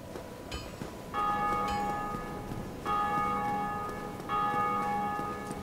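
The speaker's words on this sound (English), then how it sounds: "Someone's ringing the bell." A bell ringing in a video game, three resonant tolls spaced about a second and a half apart, each ringing out and decaying over a quiet background hum.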